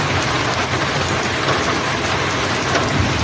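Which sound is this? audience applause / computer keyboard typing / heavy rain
heavy rain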